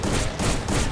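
Rapid bursts of gunfire crackle in quick succession, dense and loud, with brief pauses between volleys in the video game Free Fire, shooting at a zombie.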